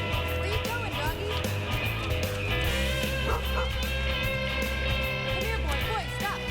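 A hurt puppy, reportedly injured by a foxtail weed, yips and barks in short repeated bursts, mixed with busy background sound and music.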